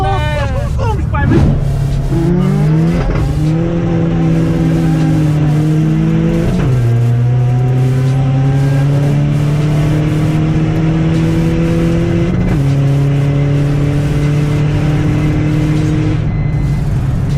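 A 1.9 TDI SEAT Ibiza PD130 diesel tuned to 600 bhp with nitrous revs hard, climbing through several gears with a loud, continuous engine drone and sharp drops at each shift, heard close from inside the car.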